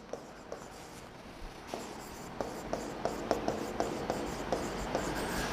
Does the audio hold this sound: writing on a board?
yes